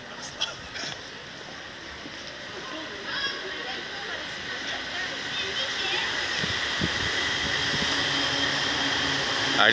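A train pulls away from a platform at a Japanese station beside the Railway Museum in Saitama, with a steady low rumble that slowly builds, plus hissing and squeal, recorded from nearby.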